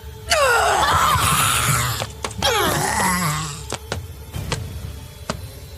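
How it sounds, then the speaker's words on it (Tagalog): Two long, anguished screams in a horror story, each sliding down in pitch with harsh rasping edges, followed by sharp clicks and knocks as the sound dies away, with no talking. "Maraming tao ang nakarinig ng nakakikilabot na sigaw"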